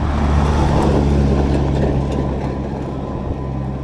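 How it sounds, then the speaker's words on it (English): A car passes on a road and makes a loud, steady rumble that slowly fades as it moves off. It is heard from beside the road while riding a CUBE Stereo 2021 e-bike, with no talking. "And just another car coming."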